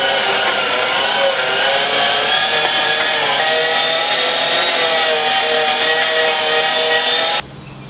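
A meat mincer grinds about 1.5 kg of pork fat for venison sausages, a loud, steady motorized drone that runs continuously and then cuts out abruptly near the end.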